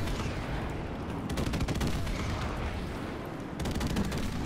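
Airstrike explosions and gunfire in Call of Duty: Modern Warfare Remastered, with dense rapid bursts of automatic fire layered over deep rumbling booms, loud and continuous with no talk.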